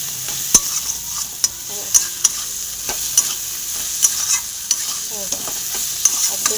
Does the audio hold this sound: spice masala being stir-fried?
yes